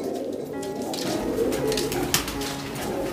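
Racing pigeons coo softly in a loft, their low throaty calls repeating close by over a steady background hum.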